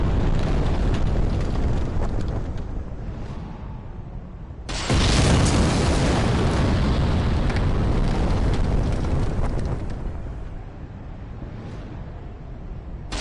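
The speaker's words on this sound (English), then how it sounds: "there's a giant up there who throws caster bombs" Caster bombs thrown by a giant in the video game Dark Souls detonate in loud, rumbling blasts, one heavy burst roughly midway followed by sustained roaring noise that fades back to a lower rumble.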